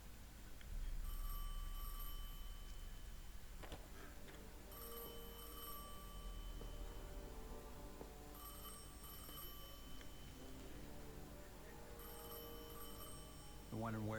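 A telephone rings in the Destiny 2 video game, with repeated bursts of bright ringing spread across the clip over a steady low game ambience, and no one speaking over it.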